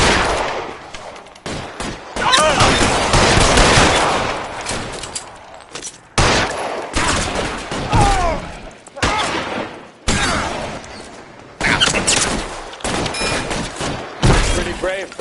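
Gunfire rings out in the video game LA Noire: repeated bursts of rapid shots and single loud cracks come in clusters with short pauses between them, and a voice is heard over them.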